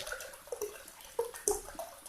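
Drinking water poured into a plastic container while making stony ice, heard as a few faint, close drips and small splashes spaced irregularly, with no voices.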